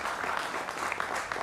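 Loud, continuous studio audience applause at the start of a televised debate show, a thick and even roar of clapping filling the whole moment.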